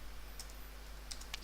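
A few quick clicks of computer keyboard keys as an axis title is typed, faint and sparse over a low steady hum.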